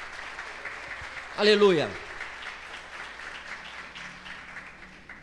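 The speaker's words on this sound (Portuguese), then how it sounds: "Você pode dar uma salva de palmas para Jesus." A church congregation claps in applause, a steady mid-distance patter running beneath a voice that calls out in Portuguese and keeps speaking over it.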